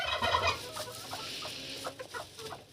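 Broody bantam and regular-size hens clucking close by, a burst of loud clucks at the start followed by softer, scattered murmuring clucks, no speech.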